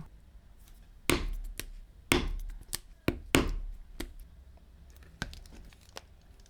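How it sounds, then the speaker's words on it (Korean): A leather hole punch is struck to pierce holes in a leather bracelet, several sharp knocking thuds in an irregular sequence, close, with lighter taps and rustles between them. "사이즈 맞는 펀치를 이용해서 마저 뚫어 주겠습니다"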